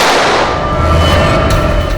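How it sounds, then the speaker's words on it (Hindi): Gunshot inside a room, a loud burst of noise with a booming low-end tail filling the whole moment, no talking. "गोली की आवाज?"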